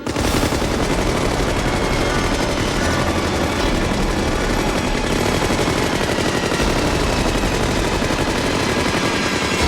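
Thompson submachine guns fire in a continuous, dense burst inside a warehouse, with loud rapid automatic rattling sustained for the whole stretch and no pauses.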